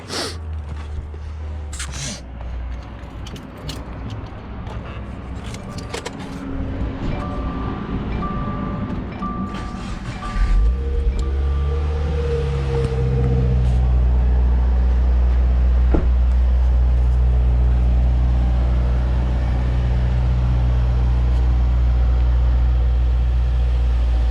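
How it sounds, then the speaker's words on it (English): A 2017 Subaru WRX engine starting and warming up, with a low steady idle rumble that swells after about ten seconds and then holds loud and close, with scattered clicks early on. "Just gonna start warming up my car first before"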